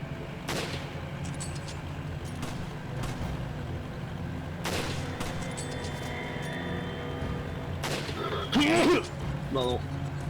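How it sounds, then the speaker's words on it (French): Gunfire and explosions in Resident Evil 5 crack out as several sharp bursts over steady game background noise, with the heaviest cluster near the end. "On va prendre l'explosion, il faut juste qu'on comprenne d'où."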